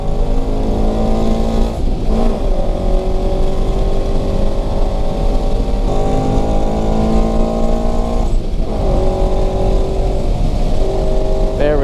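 Race car engine on a track day, held at steady throttle with a loud, continuous multi-harmonic drone and slight pitch shifts, with brief dips around gear changes and faint voices underneath.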